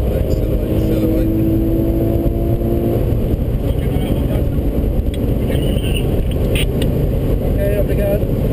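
Car accelerating hard on the Portimao racing circuit in the Algarve, Portugal, a loud, steady engine drone from inside the cabin with a rising tone in the first seconds, continuing strong throughout.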